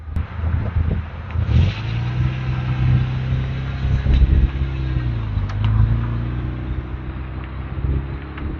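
A Volkswagen Golf VR6 makes a road pass, its low engine hum rising and shifting in pitch as it goes by at moderate distance, with wind buffeting the microphone.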